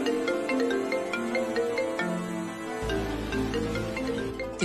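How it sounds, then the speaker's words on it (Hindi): A phone ringtone plays late at night, a melodic electronic tune of repeating tones that sounds loud and close with no talk over it. "ये इतनी रात गए, ये क्यों फोन लगा रहे हैं?"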